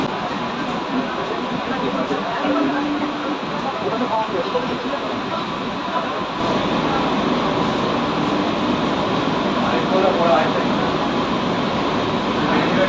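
Steady rumble of an AC electric local train on the Sealdah–Ranaghat line running along the tracks, a continuous rolling roar with faint voices beneath it.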